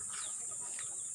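Native chickens cluck briefly and faintly in an outdoor farm setting, a short soft burst of calls over steady background hiss.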